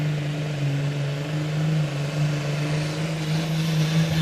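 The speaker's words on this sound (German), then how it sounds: "The next tractor from Sweden is the Blue Viking mit Martin Göransson" The Blue Viking, a Swedish pulling tractor in the Super Sport 4.5t class at a European championship tractor pull, gives a steady droning roar at a distance with no clear voices over it.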